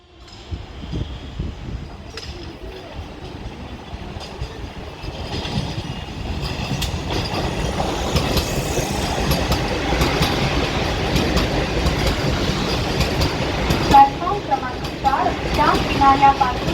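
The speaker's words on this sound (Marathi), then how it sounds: "प्लेटफॉर्म क्रमांक 4 के किनारे से दूर खड़े रहिए, एक जलद गाड़ी जाने वाली है" A fast train, a WDP4D or WAP-7 locomotive hauling coaches, rushes past a Mumbai suburban platform, a broad rumble that swells and holds loud with rattling wheel clatter and brief squeals while a voice speaks over it.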